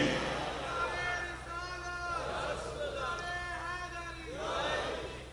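A large gathering at a religious speech chants slogans in unison, rhythmic collective shouts that rise and fall in repeated waves. The chanting sounds somewhat distant and hall-like over a low steady hum.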